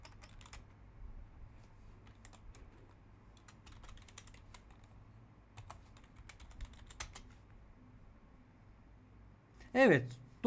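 Computer keyboard typing in quiet bursts of light keystrokes, close and soft, with a brief louder clatter near the end.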